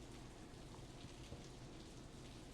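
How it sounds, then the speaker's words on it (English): Heavy rain falls steadily in a midwinter downpour from the Steins;Gate 0 visual novel, a dense, even hiss of drops continuing without pause, soft in level, with no voices. "The rain was falling on my face in drops so large that it hurt."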